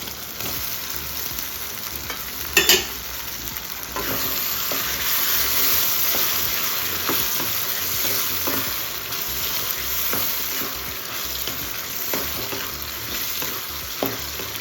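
Brinjal pieces fry and sizzle in a pan with tomato and onion for a spicy field-bean curry, a steady close crackle with a spoon stirring and scraping through it at intervals, including a sharper clatter early on.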